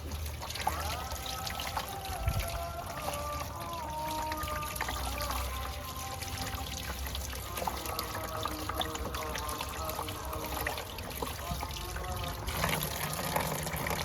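Harvested garden vegetables such as lettuce, cherry tomatoes, cucumber and basil being washed in water, with a steady trickling, splashing sound running throughout, close by and continuous.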